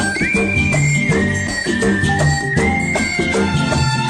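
A man whistles a Bollywood song melody, the loud, clear sustained tone gliding between pitches and carried over a full, dense backing track of music throughout.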